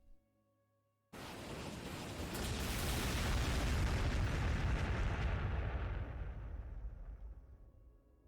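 Unit weapons fire in Warhammer 40000 Sanctus Reach as a sudden loud roaring volley that swells, holds for several seconds and then slowly fades away.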